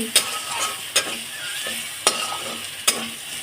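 Onion, ginger and garlic fry together in a pan for aloo dum, a constant bright hiss of hot oil with four sharp spatula knocks at an uneven pace, close with no voices.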